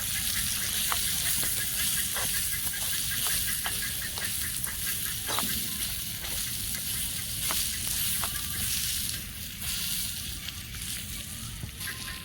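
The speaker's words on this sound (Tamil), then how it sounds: "இப்போ மிளகாத்தூள் போட்டு மிக்ஸ் பண்ணிக்கலாம்" Fried crab tossed with chilli powder in a pan, a steady hissing sizzle running throughout with scattered clinks and scrapes of a spatula against the pan.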